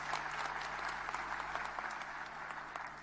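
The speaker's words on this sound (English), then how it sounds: "Give them another round of applause for me," Sustained audience applause at a municipal election results announcement, a steady wash of many hands clapping filling the whole stretch, fairly distant and even, with a faint low hum underneath.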